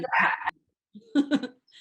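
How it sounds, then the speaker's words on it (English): A nearby dog gives a few sharp barks and yips in quick bursts separated by a brief pause. "oh, sorry, my dog is barking."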